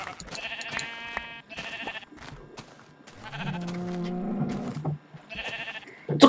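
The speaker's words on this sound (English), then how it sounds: "It's a cult of sheep!" A chorus of sheep bleats in Minecraft, some high and shaky, one long low drawn-out baa in the middle, calling back and forth nearby.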